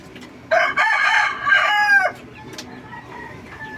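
A Kelso X5 sweater gamefowl rooster, kept in a coop made from market banana boxes, crows once loudly and close by in a single drawn-out call of about a second and a half, followed by quiet background.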